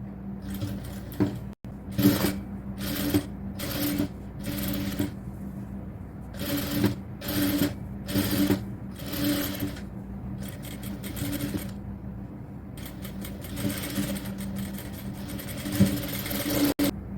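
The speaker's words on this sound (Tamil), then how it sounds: "அடுத்தது இதில் ஒரு பதிவு தையல் போட்டுக்கலாம்." Sewing machine stitching a cotton top, running in repeated short bursts with brief pauses between them, then a longer continuous run near the end, close and steady with a low motor hum underneath.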